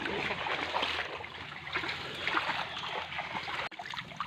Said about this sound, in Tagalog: Kahit sa ilog lumalangoy siya.